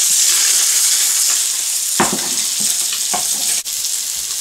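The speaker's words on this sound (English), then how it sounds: "very gently flip it over and just let the other side cook through, and also soak up the flavour from the butter, salt and pepper which is still in that pan" A bass fillet fries in butter with salt and pepper in a pan, a steady bright hiss throughout with a few soft knocks and a sharp click near the end, close, no voices.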